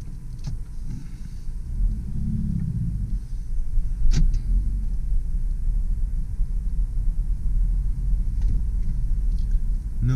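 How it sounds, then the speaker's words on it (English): A 2005 Saturn Vue with a 5-speed manual transmission is out on a test drive, giving a steady low engine and road rumble inside the cabin with a brief click partway through. No one speaks. "I think all that's left to do now is go for a test drive."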